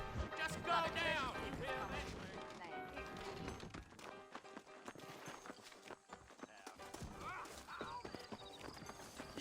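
Horses clip-clopping and whinnying in the Red Dead Redemption video game, hoofbeats and a couple of neighs mixed under background music and game dialogue, voices talking over them.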